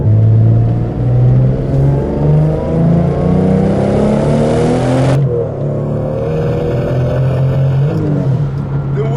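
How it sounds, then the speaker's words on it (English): A 1997 Toyota Supra engine revs up loudly, pitch climbing steadily as it accelerates and the turbo boosts from 4,000 RPM, then shifts and keeps pulling with a deep, sustained roar. "It really starts boosting at 4K RPM and it just starts moving."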